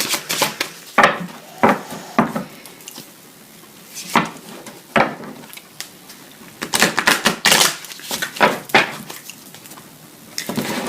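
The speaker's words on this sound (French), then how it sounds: "je les ai mélangées, les cartes." Tarot cards shuffled by hand, giving bursts of crisp riffling and clacking that come and go irregularly, close and fairly loud, with no talking.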